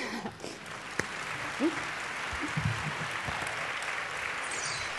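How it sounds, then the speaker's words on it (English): Applause from a conference audience after a speech at a women in business conference, a soft, steady, distant patter of many hands, with a few faint voices and small knocks under it. "Let's give her one more round of applause."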